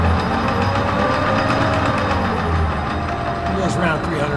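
Metal lathe running at around 300 RPM in a workshop, a steady mechanical hum and rumble with faint rhythmic rattles, close and continuous, with someone talking over it.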